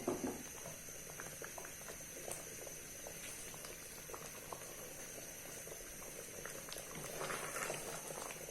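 Carrot rice kheer simmers on a medium flame, a steady close bubbling with small pops and patters over a faint kitchen hum.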